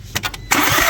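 An Audi A3 TFSI with a misfire fault cranks in a few quick, chugging pulses, then catches and fires up into a steady, close engine run within a second.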